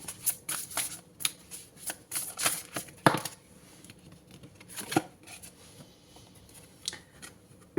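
An oracle card deck is shuffled close up, with rapid papery riffles and flicks clustered in the first few seconds, then sparser taps and slides of the cards.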